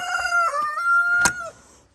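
A backyard hobby-farm rooster crows close by, a single clear harmonic call that rises then trails off, followed by a sharp click and quiet.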